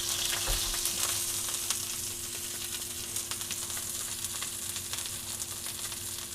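A beef tri-tip sears in a hot pan with a steady, close, even sizzle throughout, no voices over it, and a brief low knock near the start.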